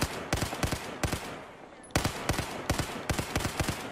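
Bursts of automatic rifle fire in Battlefield 4 crack out in rapid clusters, close and loud, with a brief lull before the shooting resumes in steady short volleys.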